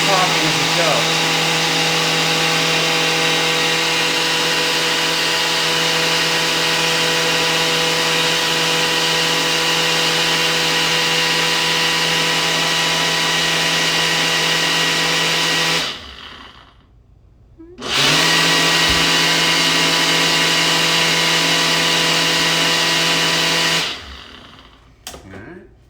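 A blender making a smoothie whirs loudly and steadily, cutting out briefly near the end before spinning up again, then stopping.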